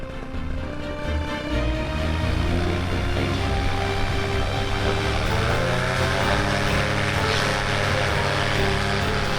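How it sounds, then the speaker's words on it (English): A paramotor engine runs steadily nearby, its droning propeller hum holding a constant low pitch with shifting overtones and no voices heard over it. "He is, he's got engine on."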